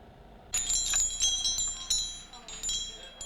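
Wind chimes hanging for sale in an Ohio hardware store give bright, overlapping metallic rings that begin about half a second in and shimmer on, with a faint voice in the background.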